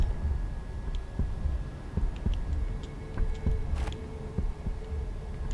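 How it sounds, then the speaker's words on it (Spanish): A low, steady heartbeat thump pulses through a Doom Eternal game scene, repeating about once a second under a droning hum and scattered faint ticks, with no one talking. "¿Por qué se tienen que oír tan desagradablemente esos latidos?"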